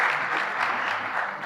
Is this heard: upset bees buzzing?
no